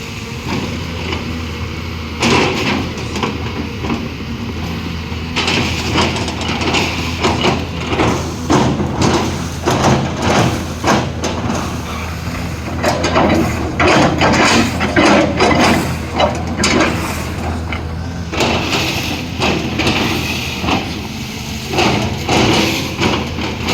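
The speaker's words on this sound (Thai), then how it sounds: "รู้แต่ว่าสี่สูบเป็นเครื่องยนต์ หนึ่งร้อยสิบห้านะครับ" A four-cylinder, 115-horsepower Caterpillar excavator runs while felling palm trees, giving a steady heavy engine drone with rising and falling surges and clanking hydraulic strain, loud and close throughout.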